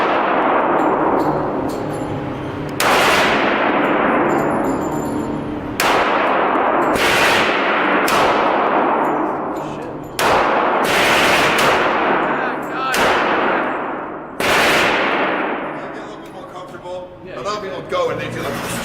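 Loud gunfire at an indoor shooting range, a string of sharp close shots at uneven intervals, each followed by a booming echoing decay, with some rapid shots bunched together near the end.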